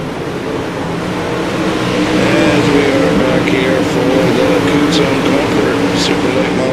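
Super late model race car engines revving and roaring at a steady high pitch on a short track for a race series, loud and continuous throughout, with a crowd and voices mixed in underneath.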